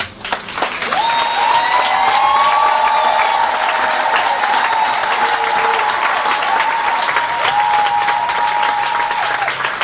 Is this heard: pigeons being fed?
no